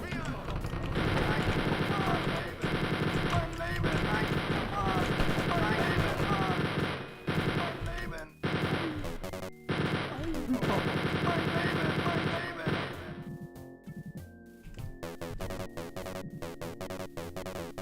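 Rapid, loud machine gun fire in the video game Spear of Destiny, long continuous bursts broken by brief pauses, ending in sparser shots and tonal game effects.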